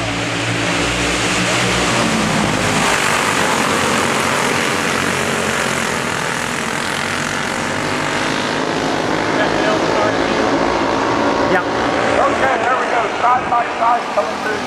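Racing karts running side by side past the start-finish line at a Commercial Point GP race, a loud dense engine roar that holds steady throughout, with an announcer talking over it.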